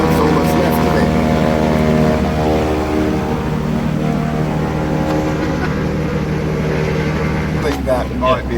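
Britten-Norman Islander twin propeller aircraft rolling on a short runway, a loud steady engine and prop drone with harmonic hum throughout, dropping in pitch near the end, and a person speaking briefly over it.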